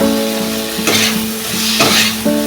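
Fish curry spice paste with salt and chili powder fries in hot oil in a pan, sizzling steadily as a spoon scrapes and stirs through it in several bursts, close and fairly loud.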